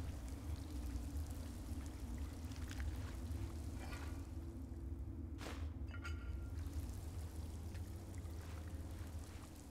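Water flowing and pouring steadily in the video game Skyrim, a continuous broadband rush with a brief splashy burst midway, heard alone without talk.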